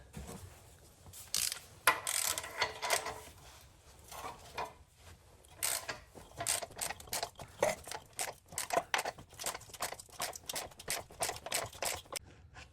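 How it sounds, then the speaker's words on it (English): A hand ratchet clicks in quick irregular bursts as it tightens down a trailing arm bushing on a Honda Civic, close and fairly quiet, with short pauses between strokes. "we're gonna grab a ratchet and we're just gonna do it by hand"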